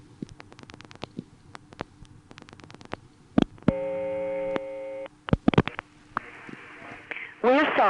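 A telephone call placed to the 516 Long Island area code through a 1970s No. 1 ESS exchange in Allentown, PA: a series of quick dial clicks, a steady tone, more clicks, then a rising multi-tone signal at the end.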